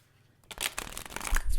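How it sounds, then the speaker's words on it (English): A deck of playing cards is shuffled up close, a quick burst of riffling and flapping after a short silence. "A little bit more of a shuffle."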